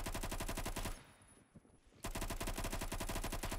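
Rapid, loud gunfire from a slow-firing three-round-burst weapon in the video game Phantom Forces, bursts steady and close, with a brief quieter gap in the middle before firing resumes.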